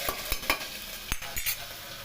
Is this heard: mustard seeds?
yes